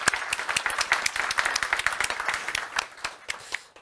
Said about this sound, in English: An applause for that.